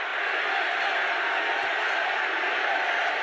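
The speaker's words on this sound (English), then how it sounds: "Listen to the roar of that crowd" A large crowd at a Trump rally in Nashville roars as one dense, sustained wash of noise, loud and unbroken across the whole stretch, heard from a distance.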